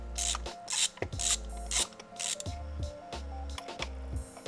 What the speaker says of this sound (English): we're going to take our 14mm socket and go in to take out all the spark plugs that are in the engine